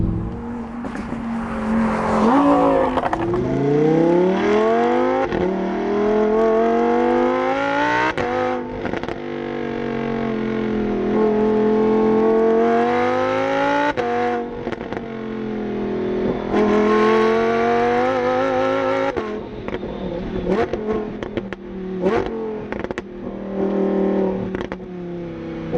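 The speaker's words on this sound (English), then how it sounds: "Lambos sound how most cars sound after you put a aftermarket exhaust on" A stock-exhaust Lamborghini revs hard on a test drive, its engine note rising and falling through repeated sweeping pulls and gear changes, loud and close throughout.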